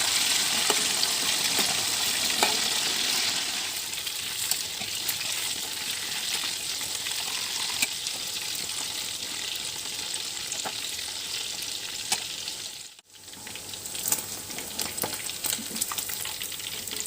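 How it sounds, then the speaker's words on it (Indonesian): Chicken pieces frying in hot oil for a spicy Indonesian coconut-milk chicken dish, a loud steady sizzle with crackling bursts that continues throughout, briefly cutting out once before resuming. "Setelah itu ayamnya akan kita goreng dulu ya."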